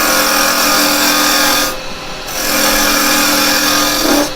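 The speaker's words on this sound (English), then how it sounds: "I'm just going to put a tenon on this end. I'm going to use my carbide for that." Carbide tool cutting a tenon on the end of an over-length wood blank on a wood lathe, a steady loud whirring scrape that breaks off briefly and then resumes, with no talk.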